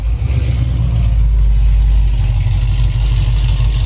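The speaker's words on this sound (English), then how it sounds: "This car makes 608 horsepower and it sounds like a monster." A 608-horsepower Jeep SRT engine running on E85 rumbles and revs steadily nearby, a deep continuous roar with no voices.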